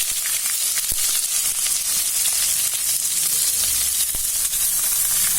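Chopped onions hit hot oil for a potato and pea kurma, giving a loud, steady sizzle of frying that runs without a break, with a few faint stirring clicks.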